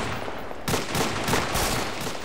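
Sustained gunfire in the video game Arma 2 during a night co-op session, a burst of rapid automatic shots erupting suddenly after a quiet moment and continuing loud and close with overlapping reports.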